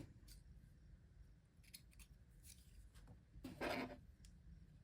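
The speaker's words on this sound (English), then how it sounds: "You're going to whip out them handy dandy scissors." Quiet scissors snip and slice through yarn a few times, with one sharper, louder cut near the end over faint background hiss.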